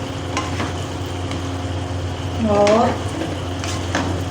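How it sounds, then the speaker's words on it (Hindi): Garam masala and kasuri methi being stirred into beef karahi frying in desi ghee, a steady close sizzle with spoon scrapes against the pan, while someone speaks briefly partway through. "गरम मसाला और कसूरी मेथी को मैं पहले इसके अंदर अच्छी तरीके से मिक्स कर लूँगी गोश्त में"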